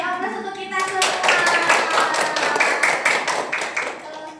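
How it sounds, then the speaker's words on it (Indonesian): A classroom of children claps together in a quick, uneven burst of applause that lasts several seconds, close and lively, with a voice speaking briefly just before it starts. "beli aplaus untuk kita semua"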